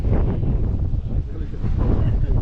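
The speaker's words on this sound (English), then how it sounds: "It is windy, guys. Super windy today." Strong wind buffets the microphone in a continuous low roar, loud and steady throughout with gusty surges, on an evening street in Midtown Manhattan, New York.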